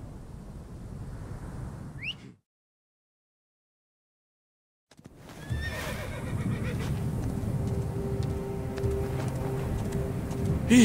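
A horse in Assassin's Creed Origins whinnies loudly, then after a brief silence hooves and ambient outdoor noise continue with a faint steady drone.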